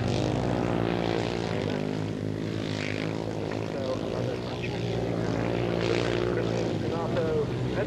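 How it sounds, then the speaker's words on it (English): A grass track racing motorcycle at Maidstone, England in 1988 with a rough, struggling engine, heard as a steady droning buzz throughout, with a commentator talking over it. "unhappy sounding engine, I'd say."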